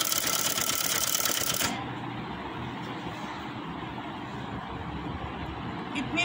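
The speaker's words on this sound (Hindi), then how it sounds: "अब ये पैंचे की सिलाई लगाएंगे।" Sewing machine stitching the folded hem of a capri trouser, giving a fast rattling whir that stops abruptly after under two seconds, leaving a quiet room hum with faint low voice-like sounds.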